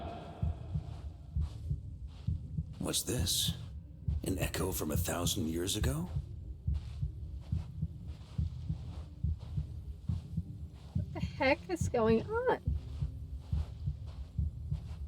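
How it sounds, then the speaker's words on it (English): Heartbeat sound effect in the video game Genshin Impact, a steady low throbbing pulse running the whole clip beneath talking, with brief bursts of game sound layered over it. "I hate this heartbeat noise"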